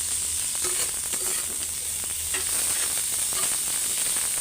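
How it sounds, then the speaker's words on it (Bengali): Dal tempering (baghar) sizzles steadily in a hot pan, a continuous bright hiss of oil with faint clinks and stirring noises throughout, close and unbroken with no talking. "এখন বাগার দিলেই শেষ"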